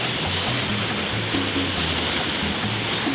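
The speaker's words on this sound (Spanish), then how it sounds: "Esto es la caída del agua que se logra apreciar desde aquí." A waterfall pours as a dense, steady roar of falling water, continuous and fairly loud with no voices over it.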